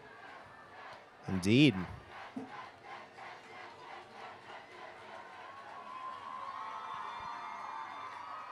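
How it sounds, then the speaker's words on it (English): Spectators in the stands cheer for the Eagles at a high school football game between the Joplin Eagles and Parkview Vikings, with a rhythmic chant and a sustained roar from the distant crowd, while a nearby announcer's voice briefly cuts in. "Good showing by the Eagles crowd today. I can hear them all the way up in the booth."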